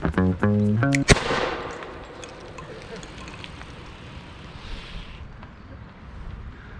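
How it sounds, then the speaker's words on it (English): Rocket motors mounted on a bicycle explode in one sharp, loud bang on flat ground, followed by a long fading rumble and hiss; a voice is heard just before the blast. "And as usual, it exploded."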